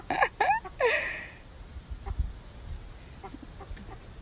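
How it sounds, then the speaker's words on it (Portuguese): Free-range chickens and a rooster on a farm in Ceará, Brazil, giving a few sharp close clucks and squawks at the start, then quieter scattered clucking and rustling. "É o galo esse."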